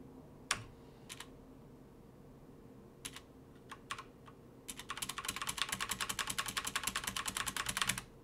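Typing on a computer keyboard while editing in Emacs: a few scattered key clicks at first, then a rapid, steady run of close, crisp keystrokes.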